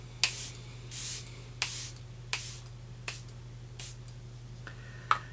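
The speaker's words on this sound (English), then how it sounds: "I will spray my face." Several short bursts of makeup setting spray misted onto a face, each a quick hiss repeated at uneven intervals, close by in a quiet room.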